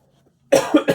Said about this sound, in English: Now I'm going to start coughing again.